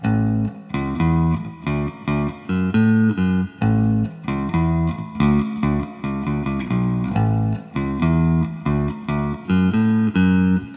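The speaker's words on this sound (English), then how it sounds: "Here's a bass line without the effect on." A clean, dry bass guitar plays a repeating riff of short punchy notes with brief gaps, steady rhythm, no voices.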